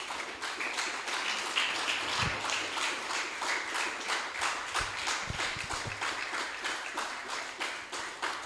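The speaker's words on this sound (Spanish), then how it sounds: "Denle un fuerte aplauso al Rey una vez más" A church congregation applauds in a steady, dense wash of clapping that holds for the whole stretch, fairly faint and distant, with no voices standing out.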